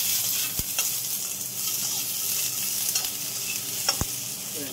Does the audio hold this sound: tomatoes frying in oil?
yes